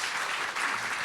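Audience applause at an interview event, a short burst of dense steady clapping from a crowd, fairly faint.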